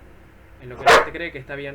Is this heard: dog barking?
yes